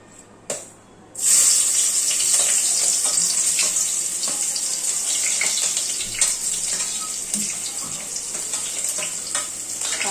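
Chopped onion dropped into a pot of hot oil for a Malvani-style mutton curry, giving a sudden loud sizzle that settles into a steady, close hiss of frying with faint clinks, and no talking.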